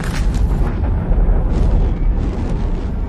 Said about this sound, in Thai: การระเบิดที่รุนแรงอีกครั้งเขย่าเมืองทั้งเมืองก่อให้เกิดลูกไฟขนาดใหญ่พุ่งขึ้นสู่ท้องฟ้า